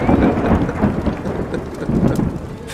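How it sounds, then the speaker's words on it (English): Steady rain with rolling thunder outdoors on an evening outside a pub, a continuous loud rumbling wash of downpour with deep low rumbles swelling and easing throughout, no voices. "Oh, is it still raining out?"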